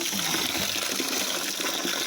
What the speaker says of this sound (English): I got my bucket. And I don't want to overwater it